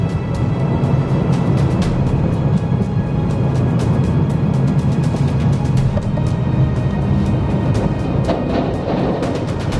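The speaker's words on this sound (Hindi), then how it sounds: "हमारे साइड से एक ट्रॉला आगे निकल रहा है, उसकी स्पीड काफ़ी ज़्यादा है" Roaring highway traffic as a truck trailer overtakes at high speed on a road near Karam dam in Dhar, a loud, continuous engine and tyre rumble lasting the whole stretch.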